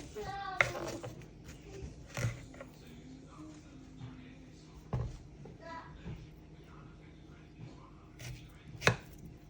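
A knife cuts through a watermelon in several scattered, sharp chops and thuds over soft background sounds, with faint voices now and then.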